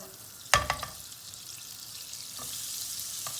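Butter, about a tablespoon, is dropped into a hot pan of oil with a sharp clack, then melts with a soft, faint sizzle that slowly swells, with no voices.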